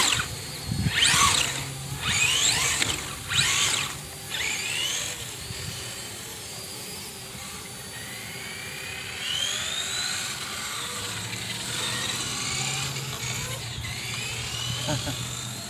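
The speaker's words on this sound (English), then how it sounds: "Getting followed by a drone." A drone flies overhead with a whining, drill-like buzz whose pitch rises and falls, loud at first and then fading, while a voice speaks at times nearby.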